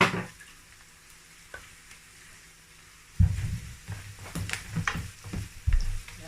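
Onions fry in a pan for a rice and sardine sauce. A quiet low simmer gives way halfway through to louder sizzling, with stirring scrapes and clatters close by.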